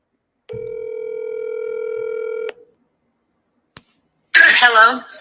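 A telephone dial tone hums steadily for about two seconds during a wholesaling cold call, followed by a sharp click and a short burst of higher tones.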